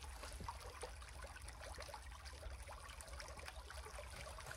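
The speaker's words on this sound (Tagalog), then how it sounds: "Ang ganda yung tunog ng tubig." Quiet, steady trickle and babble of a small stream flowing nearby, continuous and soft, with no voices over it.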